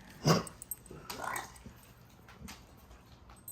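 A small dog with allergy-sore paws gives a sharp growl, then quieter whimpering noises, close by, while a person talks.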